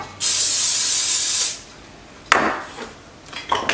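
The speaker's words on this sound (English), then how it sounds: "I'm going to spray them." Aerosol cooking spray blasts onto two round cake pans in one long, steady hiss of about a second and a half, followed by a couple of shorter, softer bursts and light rustling nearby.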